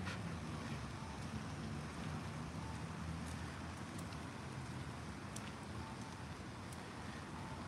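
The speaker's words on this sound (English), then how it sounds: "Along this river while it's raining." Steady, faint rain hiss with scattered soft patters beside a river in Tajimi, Gifu, Japan, ahead of a typhoon, continuous and distant-sounding, no voices.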